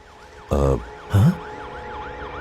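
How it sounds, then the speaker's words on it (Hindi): An ambulance siren wails in a steady rising and falling pattern at moderate volume through the whole scene, with two short bursts of loud noise over it. "यहाँ पर एम्बुलेंस आ गई है।"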